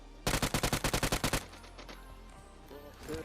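Rapid M249 light machine gun burst in a video game as a bot is shot: about a dozen loud, evenly spaced shots over a second, then a fading echoing tail and faint game sounds, no talk.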